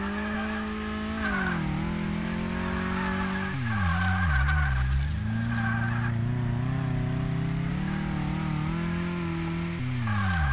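In Car Mechanic Simulator 2018 a car brakes during a brake test, a steady engine drone giving way to a long tire squeal and skid whose pitch slides down, loud and close, with no talking.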